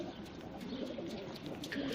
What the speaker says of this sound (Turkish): balkondaki güvercinlerden bahsediyorduk arkadaşlar